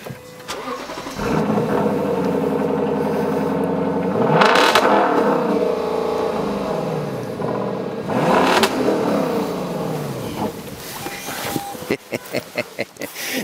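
A Lexus LC 500 convertible (2020) V8 engine cranks and starts up close, then revs loudly twice in long swells before settling into a choppy, popping idle.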